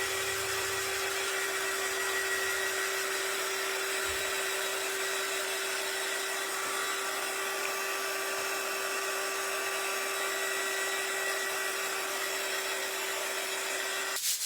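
A blow dryer drying paint on a wooden sign gives off a steady, loud whirring hum that holds evenly throughout and cuts off abruptly at the end, with no talking.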